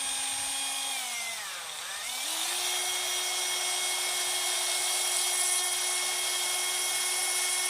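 Small Ferm cordless multifunction drill running steadily and close, its whine dipping briefly as the motor slows near the start, then holding an even high pitch for several seconds with no talk.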